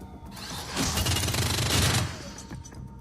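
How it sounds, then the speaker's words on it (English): Full-auto and burst gunfire from the Shadowrun: Dragonfall video game, a dense, loud rattling volley that swells midway and holds for about a second before fading to quieter combat noise. "This is full auto fire and burst fire."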